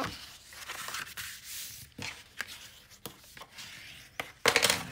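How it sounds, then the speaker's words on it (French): A bone folder pressed and dragged along paper folds to sharpen the creases, a series of close, soft scraping rubs broken by brief gaps, ending in a louder crisp rustle. "on marque un petit peu mieux les plis avec le plioir"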